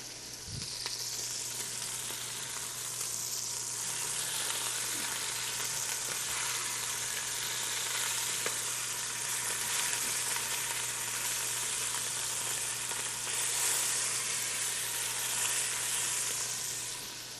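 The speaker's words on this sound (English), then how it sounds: "So you just want to have a nice sear on the meat" Marinated meat searing in a pan for Haitian cooking gives a steady, even sizzle that holds throughout, moderately loud and close, with no speech.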